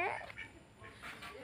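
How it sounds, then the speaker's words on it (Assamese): Ducks in a village farmyard near the fields give a few short, nasal quacks close by, loudest at the start, with faint voices in the background. "হাঁহবিলাক চোৱা"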